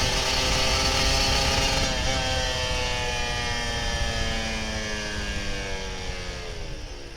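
A Kawasaki Ninja RR 150 two-stroke motorcycle is ridden in second gear with its engine at a high, buzzing rev. A rising whine drifts and slowly fades over several seconds, heard up close, with no talk over it.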